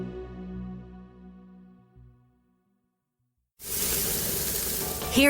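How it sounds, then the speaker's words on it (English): Food sizzles on a wood-fired grill at a steakhouse restaurant, a steady loud hissing crackle that bursts in after a tonal fade and silence and continues alone to the end. "Hear that sizzle?"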